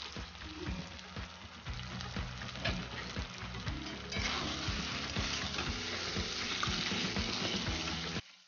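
Marinated mutton hitting hot oil with coriander and cumin powder, sizzling and frying loudly and steadily throughout with stirring scrapes, the sizzle swelling brighter midway before cutting off at the end.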